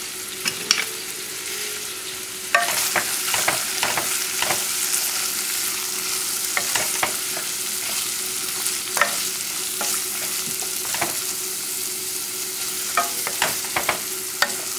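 Ingredients sweat in a hot pan with cumin and Middle Eastern spices for brown rice with garbanzo beans, a steady close sizzle broken by frequent scraping clicks of stirring.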